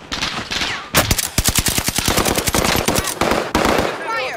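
Rapid automatic gunfire rattles in sustained bursts in Call of Duty Warzone on Rebirth Island, loud and close, with short gaps between volleys and brief in-game voice lines mixed in.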